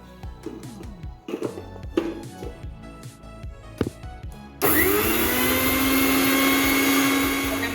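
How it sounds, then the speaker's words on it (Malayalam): An electric mixer grinder powders a spoon of sugar, starting abruptly and running as a loud, steady whirring drone after scattered kitchen clatter and handling knocks. "1 സ്പൂൺ പഞ്ചസാര പൊടിക്കാൻ പോവുക."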